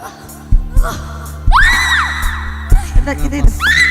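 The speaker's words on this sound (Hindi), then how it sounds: "क्यों चीख रहा है?" A person screams loudly during a deliverance prayer meeting: a long, piercing cry rising then sustained, with shorter outbursts and bangs around it in a noisy room, other voices shouting nearby.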